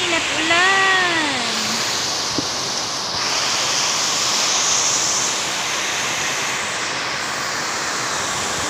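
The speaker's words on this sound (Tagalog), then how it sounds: "lakas ng hangin at ulan." Steady, loud rush of strong wind and heavy rain in Oriental Mindoro throughout, broadband and unbroken, with a brief rising-falling whine near the start.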